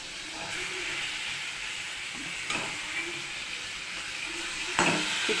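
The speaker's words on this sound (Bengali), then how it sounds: "মশলাটা আমার কষানো হয়ে গেছে, চিকেনটা আমি দিয়ে দিচ্ছি।" Chicken pieces go into a pan of hot, well-fried spice paste for chicken curry, producing a moderate steady sizzle and hiss with a few louder clattering bursts as the meat drops in and is moved.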